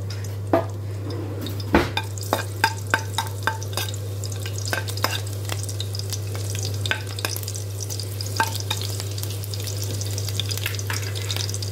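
Green chillies, cut lengthwise, fry in hot oil with a constant crackling sizzle, punctuated by sharp ladle taps and scrapes against the pan, and a low steady hum underneath.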